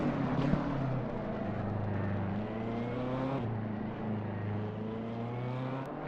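A GT race car, the number 56 in Assetto Corsa Competizione at Spa-Francorchamps, drones along the track, its engine note rising and falling through gear shifts at moderate, steady loudness.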